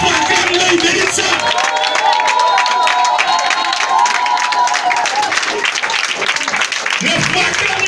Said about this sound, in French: Le foi acclame-le, il mérite cette acclamation.